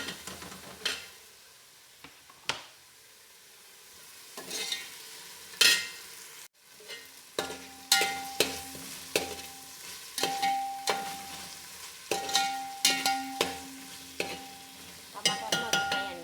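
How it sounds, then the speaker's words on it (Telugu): Tomatoes and capsicum sizzle and fry in a pan, with repeated scraping stirs and clinks of a spoon against the metal across the whole stretch, close and steady, with no talking. "ఇప్పుడు టమాటాలని క్యాప్సికం వేసేసుకుందామండి."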